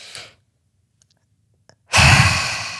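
A man demonstrates a breathing exercise: a soft breath at the start, a pause with small clicks, then a long, loud, breathy exhale close to the mic.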